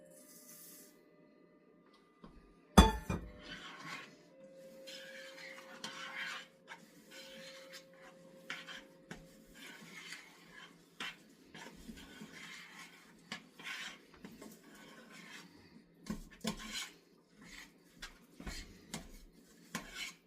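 A spoon scrapes and rasps through a stiff no-bake chocolate maple cookie mixture as dry oatmeal is stirred in, giving an uneven run of gritty strokes with a sharp clank near the start, close up and moderately loud.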